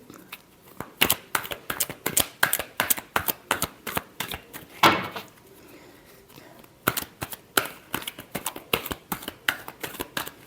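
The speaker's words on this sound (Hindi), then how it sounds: "Last shuffle." A tarot deck is shuffled by hand in rapid bursts of crisp riffling card slaps, close and fairly loud, with a brief quiet pause midway before the shuffling resumes.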